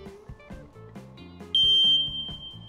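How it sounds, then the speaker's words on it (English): A household smoke alarm under test sounds a piercing, steady high-pitched beep that starts partway through and holds loud for about half a second, over a bouncy children's music background. "Do you know what a smoke alarm sounds like, DeeDee?"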